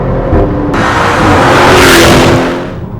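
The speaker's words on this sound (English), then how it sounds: "it's been fitted with a aftermarket exhaust system, so it is a little bit louder" Audi RS7 fitted with an aftermarket exhaust, engine noise building to a loud, sustained rev near the middle before easing off, heard up close with no talking.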